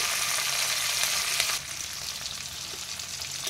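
Green chillies and tomatoes frying in oil for a pomfret mustard curry, a close, continuous sizzle that drops slightly in level partway through, with no voices.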